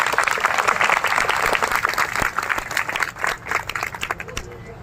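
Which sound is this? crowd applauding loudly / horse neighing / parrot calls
crowd applauding loudly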